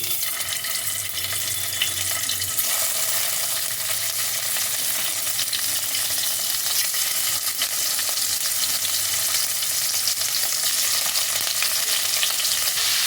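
Paneer cubes frying lightly in a tablespoon of hot white oil for palak paneer, a loud, dense, continuous sizzle with no talking throughout.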